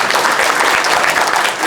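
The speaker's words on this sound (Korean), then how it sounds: "박수 한번 부탁드리겠습니다." Dense, steady applause from an audience at a press briefing for a garden expo in Suncheon, continuous clapping throughout the short stretch with no pauses.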